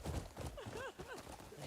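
Horse hooves clip-clop in Crimson Desert, faint and steady, with a few soft rising whinny-like tones over a dull background.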